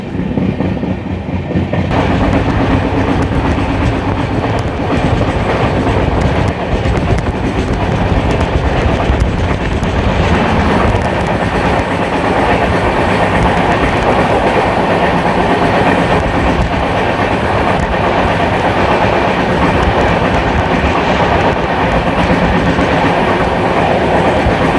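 Paharia Express passenger train running from New Jalpaiguri to Digha, heard from on board as a steady, loud rumble with continuous clickety-clack of wheels on rails throughout, no talking.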